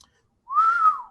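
A single person whistles one sustained, slightly rising and falling tone lasting about half a second, clear and close with near silence before it.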